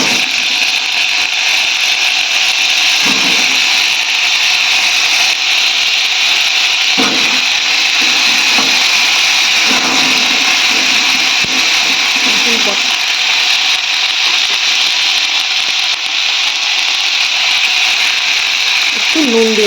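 Pointed gourd pieces frying in hot oil give a steady, bright sizzle that stays loud and even throughout, with faint knocks and shifts now and then.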